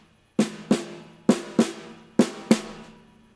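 Six sharp drum hits struck by a robotic prosthetic arm gripping the stick tightly, arriving in close pairs with quick decays, loud and alone with no talking.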